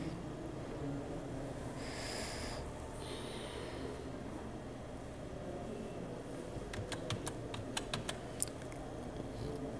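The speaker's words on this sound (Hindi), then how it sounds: "हम इसमें कोई भी नाम टाइप कर दे रहे हैं" Keys clattering as a file name is typed on a computer keyboard, a brief run of light, quick clicks near the end of a quiet room with low background hum and a couple of soft earlier noises.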